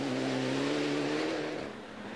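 A Peugeot 206 rally car at a forestry rally stage drives past with a loud, strained engine note that holds steady, then fades as it moves away.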